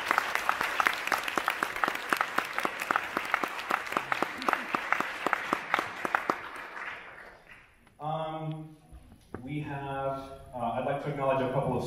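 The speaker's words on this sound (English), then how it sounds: "Give yourself a round of applause." Audience applause fills a school band winter concert hall, dense steady clapping for about seven seconds that fades out, followed by a person speaking into the microphone.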